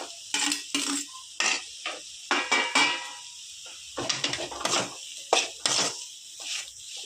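A spoon stirs fried grated boiled potato in a pan, with repeated scraping and clinking of metal against the pan in irregular strokes, close and fairly loud, with light sizzle between strokes.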